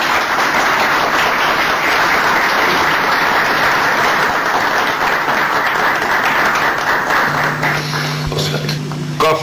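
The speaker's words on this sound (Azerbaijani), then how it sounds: "Alqışlar olsun, yaşayasınız." Dense audience applause fills a commemoration gathering in Tabriz, steady and loud throughout, with a high whistling tone above it and a brief hum near the end.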